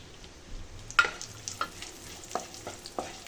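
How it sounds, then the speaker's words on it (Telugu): Almonds and raisins frying in a pan for rava laddu, a soft sizzle broken by a few sharp spatula scrapes and clicks, quiet and close, with no talk. "బాదంని కొంచెంసేపు ఫ్రై చేసుకున్న తర్వాత కిస్మిస్ వేసుకోవాలి."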